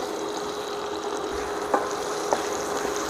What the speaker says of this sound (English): You've got to allow the onions to fry a bit more.